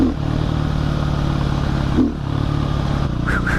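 A 2010 Husqvarna 510 SMR supermoto motorcycle under way, its single engine droning steadily with on-off throttle response and a brief blip of revving near the middle, close and loud with no talking.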